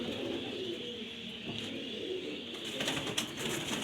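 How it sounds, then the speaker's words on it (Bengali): Pigeons being handled give soft, low cooing calls at close range, faint and intermittent over a background hiss, with no voices. "কালো কবুতর তো।"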